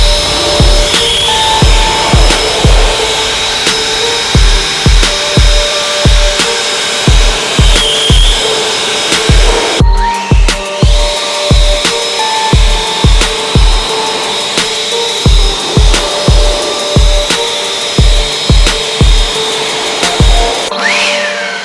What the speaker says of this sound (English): I really like the Ego blower. It's amazing. It's super powerful,